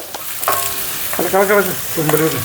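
Curry leaves crackle and sizzle loudly in hot oil up close, with bursts of spitting as they hit the pan.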